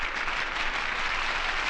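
Steady crowd applause for a reporter named Arjun at an award ceremony, a dense, even wash of clapping that holds without a break through the short moment, with no voices over it.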